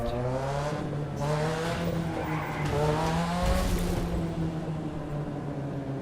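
Drifting car in the racing video game The Crew 2, a steady engine drone with a rising pitch under continuous tire squeal and skidding through a long slide, loud and close throughout.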